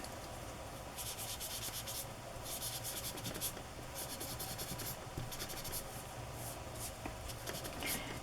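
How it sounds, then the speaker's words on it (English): Ink being rubbed onto a decorated journal page gives a steady, close, soft scrubbing texture that comes in repeated bursts, with no talking. "I'm just going to rub a little ink on there."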